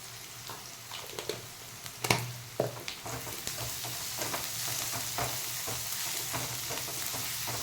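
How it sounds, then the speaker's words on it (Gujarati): Onions with salt and asafoetida fry softly in a pan, a low continuous sizzle with a few sharp stirring clinks and scrapes near the start, no voices. "ડુંગળીને ચડી જવા દેવાની એકદમ સોફ્ટ થઈ જાય ત્યાં સુધી એને થવા દઈશું"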